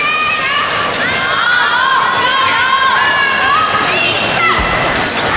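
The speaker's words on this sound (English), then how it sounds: "Crowd supporting their national player, Ma Long." A home crowd cheering and shouting for Ma Long at a table tennis match at the 2015 China Open, loud and sustained, with high voices calling out over the steady roar.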